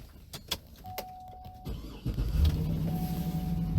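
A car engine cranks and catches after a few faint clicks and jangles, then settles into a steady low idle that grows louder and holds.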